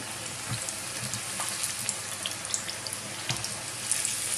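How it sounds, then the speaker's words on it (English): Onion bhajis fry in oil with a dense, steady hiss and light bubbling crackle, close and fairly loud, with no talking over it. "You give them a nice little fry and they will come out beautifully golden"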